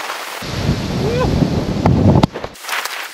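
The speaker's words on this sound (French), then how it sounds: "Il y a beaucoup de vent." Strong wind buffeting the microphone on a golf course at the Ugolf château de Rochefort, a dense low rumble lasting about two seconds before it drops away, with a faint voice heard briefly.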